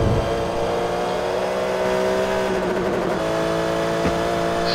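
GT3 race cars, Porsches and BMWs, in a Forza Motorsport race, a steady loud engine drone with shifting pitch as the cars rev through gears and corners, without talk.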